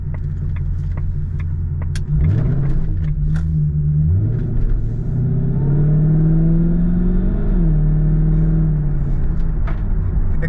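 A Jaguar XK R 4.2 (X100), a rear-wheel-drive performance car, pulls away and accelerates, its engine note rising through the revs, dipping at a gear change and climbing again, heard loud from inside the cabin.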